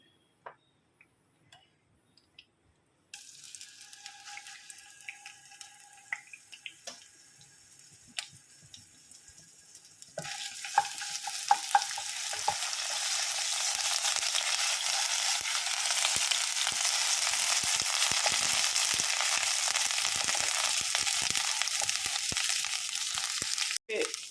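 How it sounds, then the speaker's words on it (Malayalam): Ginger garlic paste drops into hot coconut oil for a mushroom masala curry. Quiet ticking and light crackle give way to a loud, sustained sizzle that carries on to the end. "വെളിച്ചെണ്ണ ഒന്ന് ചൂടായി വരുമ്പോഴത്തേക്ക് ഇഞ്ചി വെളുത്തുള്ളി പേസ്റ്റ് ഇട്ട് കൊടുക്കുക"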